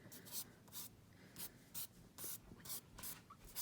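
Broken charcoal scratching across paper in short, quick strokes, about a dozen rhythmic rasping marks made close to the microphone, some briefer and some longer.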